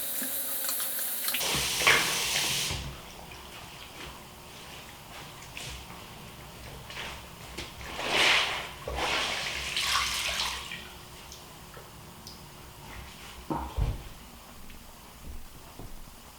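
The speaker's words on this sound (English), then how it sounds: "we do take the towel and wet it down" Water runs from a tap as a towel is soaked for a homemade bedroom humidifier, a steady splashing stream with louder gushes and a few handling knocks, close and alone.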